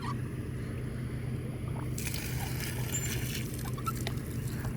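Water runs steadily from a pipe on a farm, a continuous soft rushing and trickling with a low hum beneath, growing brighter and splashier partway through.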